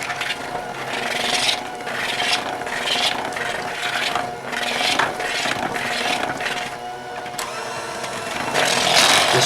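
An electric mixer beats whoopie pie filling with powdered sugar in a bowl, a steady whirring rasp that holds for the whole stretch with slight surges as the beaters scrape the sides, close and fairly loud.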